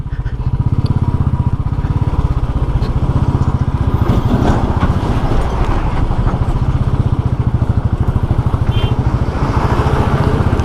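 Loaded Royal Enfield motorcycle climbing the Zoji La pass on the road from Sonamarg to Leh, its single-cylinder engine thumping in a steady, fast rhythm, loud and close throughout with some road clatter.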